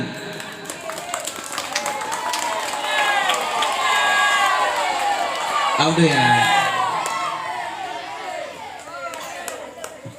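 A crowd at a children's quiz competition between Quran study groups claps, shouts and cheers in a lively, swelling burst, with children's voices and a speaker audible over the din.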